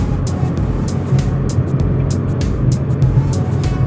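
Large vehicles on Route 33 in Sa Kaeo, between Khao Singto and Sala Lamduan, make a loud, continuous road rumble and tyre roar, with brief sharp ticks and thumps over the steady noise.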